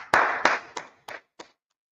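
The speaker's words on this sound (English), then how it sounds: "Let's clap it up." A handful of sharp hand claps from a small audience at a Bible class, about five distinct claps spaced unevenly and fading out into silence.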